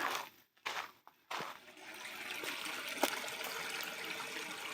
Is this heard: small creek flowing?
yes